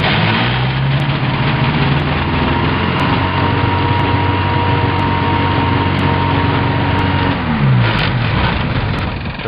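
A Thruster light aircraft engine catches and runs steadily at idle, a loud continuous buzzing drone with a slight pitch dip late on, close to the microphone with no voices.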